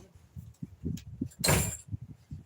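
A door is shut once with a short, loud thud-and-rattle midway, set among softer shuffling and handling noises close by.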